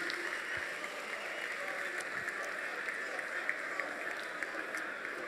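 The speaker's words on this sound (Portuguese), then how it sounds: "Eu quero ver todo mundo aplaudir de pé." An audience claps steadily at a rap battle, a dense, continuous wash of applause held at an even level throughout, with faint voices mixed in.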